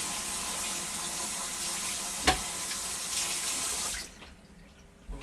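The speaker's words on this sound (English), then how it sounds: "Quick wash of my hands." A kitchen tap runs steadily while hands are washed during home baking, a close continuous rush of water with a brief knock partway through before the flow is shut off and it goes quiet.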